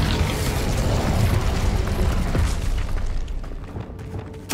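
The Incendio fire spell in Hogwarts Legacy: a loud whooshing, roaring burst of flame that holds steady for a few seconds, then fades, with a sharp pop at the very end and no voices.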